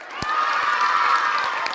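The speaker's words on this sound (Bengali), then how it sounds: "ওদের জন্য হাততালি হয়ে যাক" An audience at a golden jubilee celebration cheers and claps for students, a brief dense burst of crowd noise with voices and applause, close and loud.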